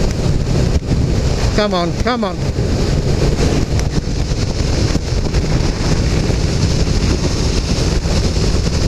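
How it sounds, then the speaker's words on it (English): A motorcycle ridden at 70 mph on a UK motorway, with loud, steady wind roar buffeting the microphone throughout. Someone speaks briefly over the noise. "I am really fighting the wind here at 70 miles an hour"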